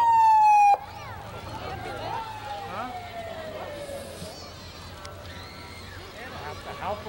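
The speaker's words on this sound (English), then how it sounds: "There's the Fallon ambulance." An ambulance siren wails during the 2006 Quincy Christmas Parade, opening with a sharp close blast that cuts off, then sweeping tones heard farther off under crowd noise and people talking.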